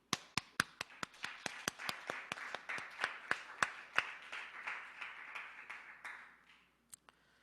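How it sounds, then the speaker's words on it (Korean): A congregation in an online Zoom Sunday church service claps in sharp, evenly spaced hand claps, about twenty in quick succession. The claps are close and crisp and stop after roughly six seconds. "5초간만 박수를 드립시다."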